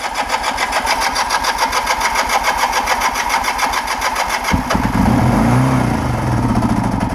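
A 1980 Kawasaki KZ LTD440 motorcycle engine with the choke on cranks steadily, then catches at about four and a half seconds and runs loud and close on starting fluid, its revs rising and settling into a rough idle.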